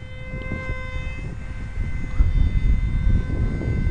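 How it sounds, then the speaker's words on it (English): A scratch-built radio-controlled F-18 jet flies slowly at about quarter throttle, its steady whining engine tone holding alongside a rumbling wind-buffeted background that swells slightly partway through. "Maneuver's pretty nice on slow flight, about quarter throttle."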